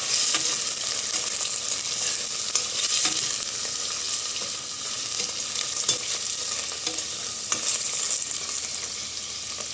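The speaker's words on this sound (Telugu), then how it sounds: "ఇది కొంచెం ఫ్రై అవ్వనివ్వాలన్నమాట ఆయిల్." Cubes of paneer frying in hot oil give a loud, continuous crackling sizzle with scattered pops and occasional stirring, with no talk.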